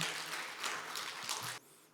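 A seated audience at a tea culture festival claps to welcome a ceramic artist, a broad steady wash of applause that cuts off abruptly near the end.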